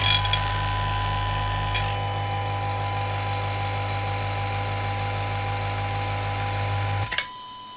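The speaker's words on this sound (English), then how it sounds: "Vacuum pump on now." A BACOENG vacuum pump with chamber kit runs with a steady mechanical drone and whirring hum, fairly quiet and constant, then abruptly shuts off near the end.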